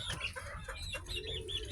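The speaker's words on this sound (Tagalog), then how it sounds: "Laking manok." A large Kelso gamefowl rooster on a game farm gives soft clucks, faint and fairly close over low outdoor background noise.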